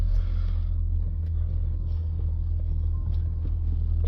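Range Rover Sport moving slowly and reversing at low speed, a steady low engine and road rumble heard close and continuous with no talk.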